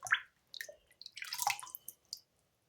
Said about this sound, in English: Keep whacking it against glass, against stuff.